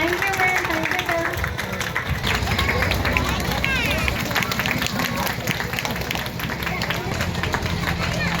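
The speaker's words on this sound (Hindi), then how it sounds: "जोरदार तालियां हमारे मैम के लिए" Audience at a school annual function applauding a teacher, with dense, sustained clapping from a large crowd filling the whole stretch and some crowd noise mixed in.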